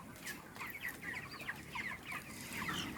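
Broiler chickens about thirty days old in an open stilt coop cluck and chirp softly and continuously, a faint flock murmur with scattered higher calls throughout.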